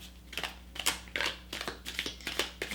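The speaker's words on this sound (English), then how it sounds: "I just kind of want to shuffle this giant deck a little bit." A giant deck of tea leaf fortune cards is shuffled by hand, giving a run of quick papery riffles and soft taps, close and fairly quiet, with no talking.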